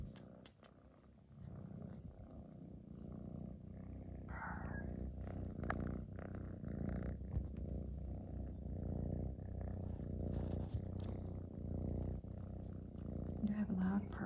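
A cat purrs loudly and continuously, a low rumbling drone held close for the whole stretch, with a few faint incidental noises over it.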